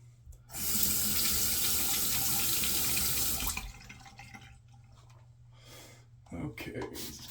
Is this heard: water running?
yes